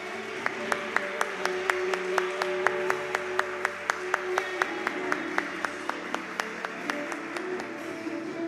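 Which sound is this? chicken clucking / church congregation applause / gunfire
church congregation applause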